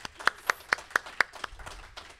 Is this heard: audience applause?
yes